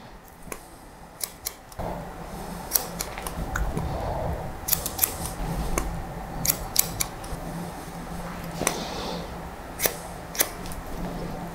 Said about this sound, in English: And cut that horizontally through our fingers as well, like that.